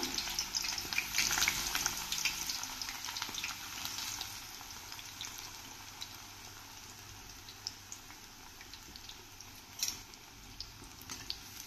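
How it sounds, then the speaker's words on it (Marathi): Eggplant pieces frying in hot oil for a Maharashtrian fried-eggplant bharit: a steady close sizzle that is loudest and most crackly at first, then settles to a quieter continuous fry with scattered pops. "आता आपण ही वांगी याच्यात फोडी ज्या आहेत त्या यात टाकूया तळायला"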